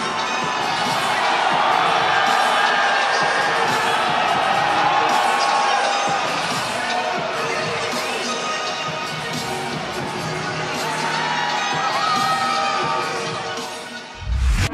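Arena crowd in Melbourne roaring and cheering throughout a UFC fighter's walkout, a dense, loud, continuous wash of voices with whoops rising and falling, fading slightly near the end.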